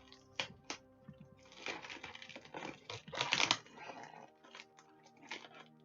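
Sticky tape crackles and rips in short bursts, close up, with a louder stretch of peeling in the middle and quieter crinkles after.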